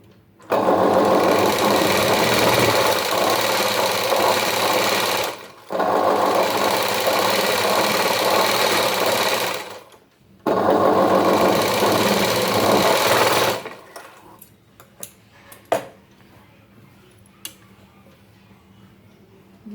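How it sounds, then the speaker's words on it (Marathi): An electric sewing machine stitches the lower edge of a Paithani saree blouse piece joined to its lining, running in three loud steady bursts separated by brief pauses, then stopping, followed by scattered faint clicks and handling noises. "आता खालच्या साईडने शिलाई मारून घ्यायची आपल्याला"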